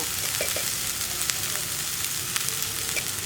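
Spinach and lentil curry is stirred in a hot pan, a continuous soft sizzle with scattered light scrapes and spoon clicks, close up and with no one talking.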